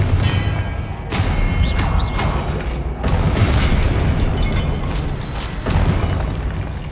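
Repeated blasting-spell explosions in the Hogwarts Legacy video game, with heavy booms landing about every second or two over a dense, loud rumble of combat effects.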